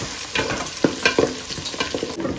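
Onion, chilli and kasuri methi fry in hot oil in a pan while a spoon stirs them, giving a steady close sizzle broken by scraping strokes, with no talk.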